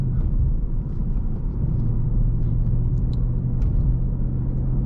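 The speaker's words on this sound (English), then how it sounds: "an active exhaust," Deep, steady rumble from the V8 active exhaust of a 2023 Ford Mustang Mach 1 with a Tremec 6-speed manual, loud and sustained with a slight swell in pitch, heard from inside the car.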